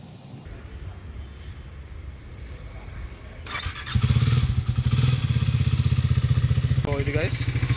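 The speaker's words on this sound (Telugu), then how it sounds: "ఇంజన్ కోల్ స్టార్ట్ అయితే చేసిన" A new superbike's engine cold-starts partway through, jumping from quiet background noise to a loud, close, throbbing idle that stays steady and rhythmic to the end.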